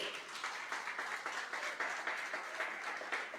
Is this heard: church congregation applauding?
yes